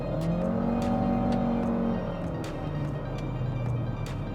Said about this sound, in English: you put your foot down and it doesn't really take a lot of revs to make this thing vocal